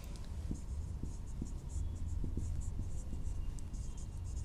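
Marker or chalk writing on a board during a chemistry lecture, heard as faint scattered taps and scratches beneath a steady hiss of room noise, with no clear voice over it.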